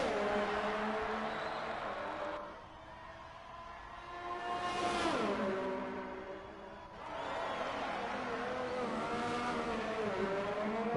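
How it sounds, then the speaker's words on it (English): F2 race car engine from a PS4 racing game at Baku, revving and easing on and off the throttle, loud and continuous with a dip in the middle before climbing again. "You can hear him playing with the throttle"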